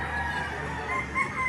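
Chickens and roosters at the Padre Garcia Livestock Auction Market, with a steady crowded murmur of fowl. Brief higher crow-like calls rise now and then over the continuous background of birds and market noise.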